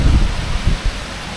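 A heavy night storm with no power: loud rushing rain and wind gusts roar steadily, with deep low rumbles swelling now and then.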